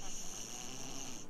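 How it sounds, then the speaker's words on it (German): Beavers snore inside their huts in the Timberborn video game, a steady looping snore with a high whistling tone, moderately loud and unbroken. "Hört ihr das? Die schnarchen in ihren Hütten."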